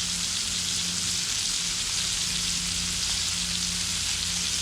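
Bacon strips frying on a Blackstone flat-top griddle, a loud, dense, continuous sizzle and crackle of hot fat, steady and close throughout with no talking.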